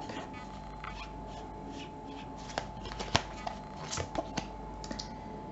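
Tarot cards are shuffled quietly close by, with soft rustles and a few sharper flicks and snaps, and no talking.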